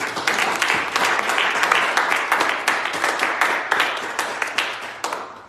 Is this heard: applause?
yes